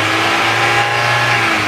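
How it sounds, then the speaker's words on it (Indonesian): A Suzuki New Carry pickup engine revved hard, a loud, close, sustained mid-pitched roar holding steady with no voices over it. "Sekarang kita geber aja ya, karena ini Tayo kan dia nggak pakai RPM, kita pakai perasaan aja, kita geber gitu. Nah kita geber kayak gini,"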